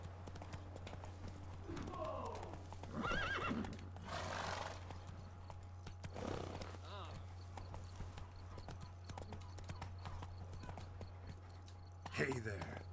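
Horse hooves clip-clopping in the Witcher 3 video game, with a brief neigh or whinny partway through, heard under a steady low hum and intermittent speech.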